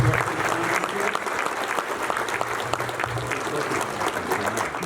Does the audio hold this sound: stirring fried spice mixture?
no